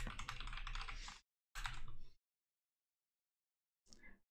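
Keys on a computer keyboard clatter in two quick bursts of typing as a master password is entered, followed by a pause and a short final tap, close and crisp.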